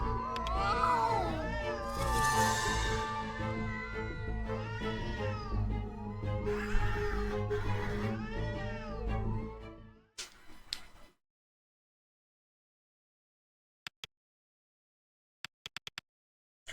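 Several cats in the video game A Space For The Unbound meow and caterwaul loudly over a steady game music bed for about ten seconds, then fall silent except for a few faint clicks.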